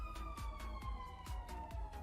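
Police car siren wailing in a fast, repeating pulse, about a dozen evenly spaced whoops over a low rumble, moderately loud and heard alone without speech.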